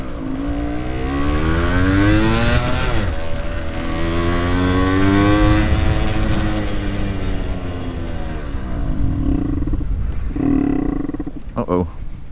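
A vintage Yamaha YSR50 motorcycle engine running with its idle set too high. Its buzzy note swells and sags in repeated wavering sweeps, loud and close, with voices faintly underneath.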